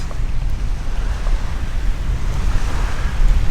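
Strong, steady wind roars across the microphone alongside crashing surf, a constant loud rumble with no pauses or voices.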